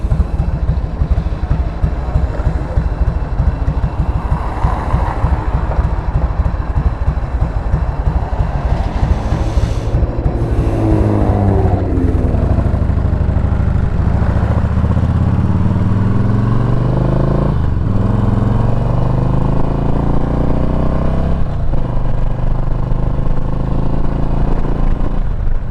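A Harley motorcycle engine idles steadily and loudly up close while its carburetor is adjusted, a continuous low rumble running throughout with rough fluctuating texture and no talking.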